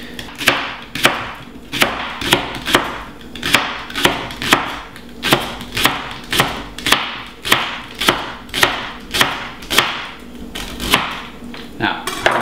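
A sharp kitchen knife chops leek on a cutting board in a steady rhythm of crisp, close thuds, roughly two per second, over a quiet room.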